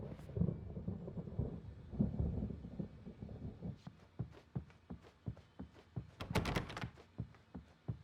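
Rumbling thunder rolls through a stormy night in Alan Wake Remastered, with deep low booms early on followed by a series of sharp knocks and thuds, and no talking.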